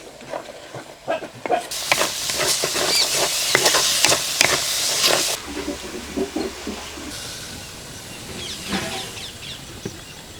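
A paste of green chilli, turmeric and salt fries loudly in a pan for a gongura chicken biryani, a bright hissing sizzle over stirring scrapes that drops after a few seconds into quieter stirring and crackling.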